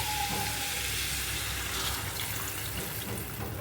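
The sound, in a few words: water being added to egg curry with potato and papaya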